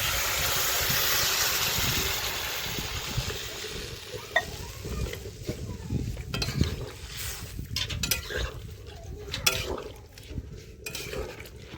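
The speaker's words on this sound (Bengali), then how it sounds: "এখন আমি পরিমাণ মতো জল দিয়ে দিচ্ছি।" Water poured into a pan of fried vegetables and spices for a fish and broccoli curry bursts into a loud hiss, then settles into a softer sizzle. Scattered clinks and scrapes of a stirring spoon against the pan follow.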